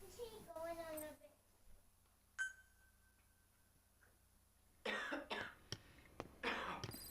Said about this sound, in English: Oh boy, coughing fits.